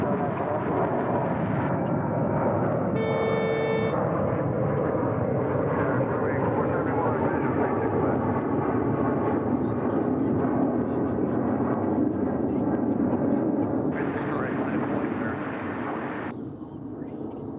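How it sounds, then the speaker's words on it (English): An MD-11 airliner on short final to runway 36 left, a broad continuous engine roar holding steady, with a brief tonal whine early on and the sound thinning toward the end. "we've got that MD-11 now in short final for 36 left"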